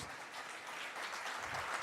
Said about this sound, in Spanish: Damos un fuerte aplauso a nuestros hermanos.